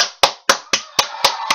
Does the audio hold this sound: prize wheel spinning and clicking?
no